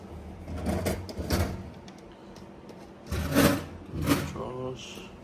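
Kitchen drawers in a Hua Hin pool villa sliding open and shut, a few short rolling thuds and clatters in two bursts, close by, with a voice briefly present.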